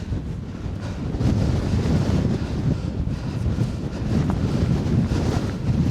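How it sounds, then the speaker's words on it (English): Strong wind buffets the microphone continuously on an open hillside at Bells Hill in the Pentland Hills, producing a heavy low rumble and roar with no other clear sounds. "But it was way too windy."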